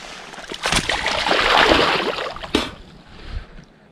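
An 80 cm pike thrashes and splashes water as it is released beside a fishing boat, with a broad wash of splashing building and fading over a couple of seconds, then one sharp slap near the end.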